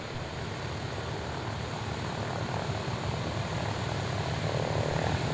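A de Havilland Dragon biplane on final approach drones steadily at a distance, its engine and propeller noise a continuous, even rumble that swells slightly toward the end.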